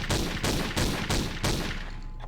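Pistol fire in a Tomb Raider level, Pearl of Kojada: a steady run of about six loud, close shots at an even rhythm, with no talking.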